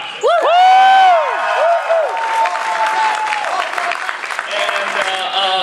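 A convention panel audience at Kam Con bursts into applause and cheering, with loud whoops and shouted voices at the start, then a sustained bed of clapping and crowd noise continuing throughout.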